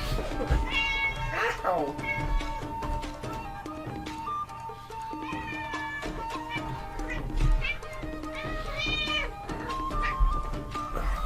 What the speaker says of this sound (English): While recording this, my cat jumped up onto the table that I was recording on and then fell onto me